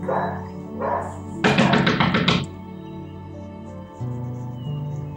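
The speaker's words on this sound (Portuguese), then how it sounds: "meu cachorro tá aqui em cima tomando sol e fazendo desgraça" A dog moves about on the floor upstairs while sunbathing, heard as a quick series of sharp taps and thuds over a steady background hum with a few softer bumps before and after.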